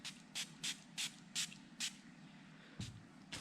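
A hand spray bottle of purified water mists a car taillight for tint film installation, giving six evenly spaced short hissing bursts followed by two more after a pause, close and crisp with no talking.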